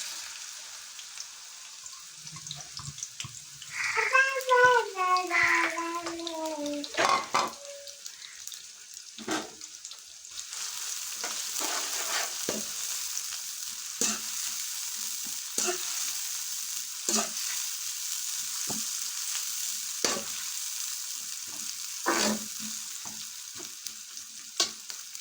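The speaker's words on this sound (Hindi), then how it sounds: "ये प्याज को हम अच्छे से ब्राउन करेंगे।" Finely chopped onions fry in hot oil for beef nihari, a steady bright sizzle running throughout with repeated spoon scrapes, preceded by a brief whistling, tonal sound early on; no speech.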